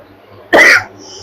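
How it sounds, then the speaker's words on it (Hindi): A single sharp cough bursts out close by, short and loud against a quiet background. "और मेरे को खांसी भी हो रखी है"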